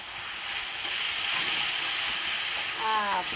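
Stir-fried noodles sizzling and hissing steadily in a hot pan as they are stirred, a constant close frying wash with soft scraping movement underneath and no talk.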